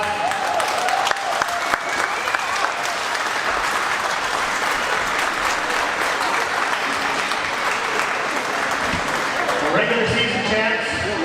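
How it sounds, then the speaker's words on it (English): A hockey arena crowd gives loud, sustained applause at a junior playoff game for the Saint John Rapids, a thick roar of clapping, with voices rising near the end. "Big round of applause"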